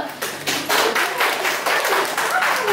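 Audience applause at a community session on reproductive health and stunting for engaged couples, a dense patter of hand claps that swells after a brief start and holds steady, fairly close and loud, with faint talk mixed in.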